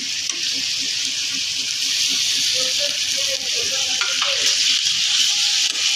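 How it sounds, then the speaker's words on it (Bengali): Onions and ginger-garlic paste fry in a pan for chicken kosha, with a steady loud sizzle and occasional stirring scrapes throughout. "আমাদের পেঁয়াজটা ভেজে নেওয়া হয়ে গেছে এবার আদা রসুন বাটার পেস্টটা দিয়ে নিচ্ছি"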